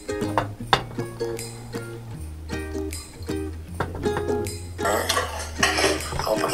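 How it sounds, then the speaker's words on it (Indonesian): A utensil stirs carbonara noodles with cream in a pan, giving light scraping, clinks and clatters against the metal, close-up, over a steady musical backdrop. "Aduk-aduk lagi sampai rata."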